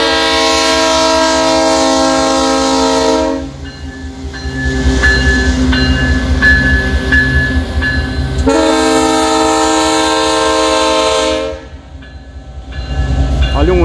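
A freight locomotive hauling grain hopper wagons sounds two long, loud horn blasts, with a rolling rumble of the train between and after them.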